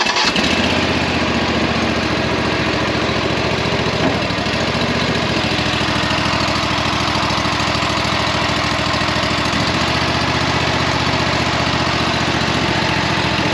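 A Toro Mud Buggy engine runs steadily and loud from start to finish, a continuous mower-like drone with a low, even rumble and no voices over it.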